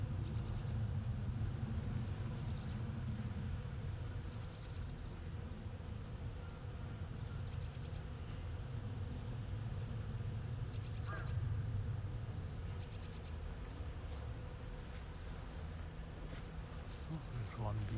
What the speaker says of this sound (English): I don't know if you can hear the buzzing.